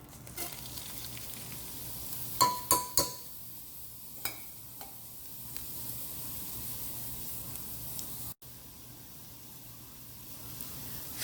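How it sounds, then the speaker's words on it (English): Washed rice sizzles gently in two teaspoons of heated ghee, a soft, steady hiss broken early by a few sharp clinks of stirring, then settling into a quiet, continuous fry. "Fry your rice in the ghee for a little bit."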